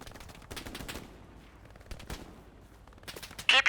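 Video-game gunfire in a battle against Germans: bursts of rapid rifle and machine-gun shots, loud and close, with irregular pauses and a heavy volley at the end.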